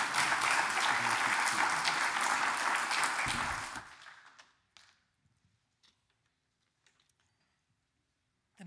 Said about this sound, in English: Give her a nice round of applause, Suzanne Whitford.